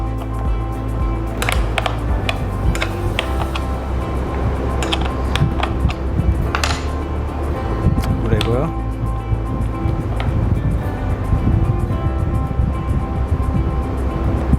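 Recoil starter spring on a boat outboard engine being opened and handled, giving clicking, ratcheting mechanical taps and metal rattles over steady background hum, with someone talking throughout.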